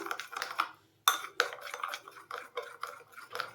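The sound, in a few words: mixing orange food colour into boondi batter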